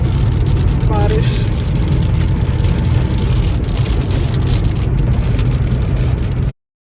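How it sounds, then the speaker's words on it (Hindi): Rain falling steadily during a car journey toward Nagpur, a dense broadband hiss over low vehicle rumble that continues without a break, with a brief faint tonal sound near the start. "बारिश।"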